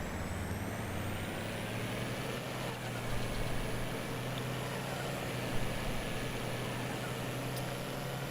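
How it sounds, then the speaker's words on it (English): A truck engine in Farming Simulator 22 gives off a steady droning whine with a continuous low rumble, heard close and even throughout with no talk. "This truck definitely has a little bit of an annoying noise."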